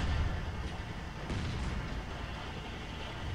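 Cannon fire in Company of Heroes 2 booms with a heavy, rumbling blast during a battle at the Reichstag in Berlin, followed by a dull, echoing roar of battle noise.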